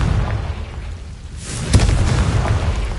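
A Confringo blasting spell explodes in a video game, a deep rumbling boom that swells halfway through with a sharp burst, loud and close.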